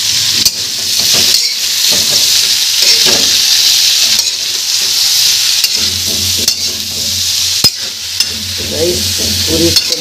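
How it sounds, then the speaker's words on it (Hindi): Potato and cauliflower curry frying in a pan, with steady sizzling and repeated stirring scrapes throughout, loud and close, with no talk. "पूरी सब्जी को अच्छी तरह से भून लेते हैं"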